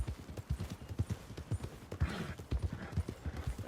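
Horse hooves clip-clopping in a steady trotting rhythm while being ridden in Red Dead Redemption, close and clear, with a brief breathy snort midway.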